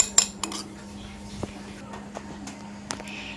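Dishes and a spoon clink in short scattered taps as a blended homemade spice mix is transferred into a bowl, with a steady low hum beneath the light clatter.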